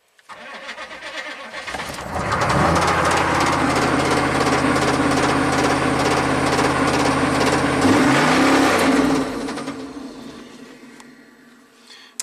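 A Chevy 6.5 turbo diesel truck engine cranks briefly, catches and runs loud and rough for several seconds, revving up near the end before dying away.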